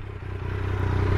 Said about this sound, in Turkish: Şöyle motoru bir çalıştıralım, sesini de duyalım. Evet, 3 silindir sesimiz.